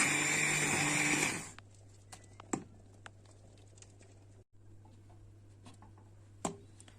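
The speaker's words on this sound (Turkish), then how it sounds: "Evet çorbamı blenderdan geçirdim." A loud whirring blender purees lentil soup for about a second, then cuts off, leaving faint clinks and taps in a quiet room.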